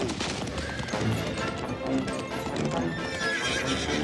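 Horses clopping along steadily with a horse whinnying, busy hoofbeats filling the scene at close range, with some background commotion.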